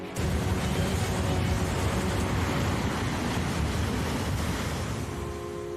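Ocean waves at Sydney's Northern Beaches, near a seawall protecting homes from storm surges, give a loud, continuous roar of surf mixed with wind buffeting, with no talking.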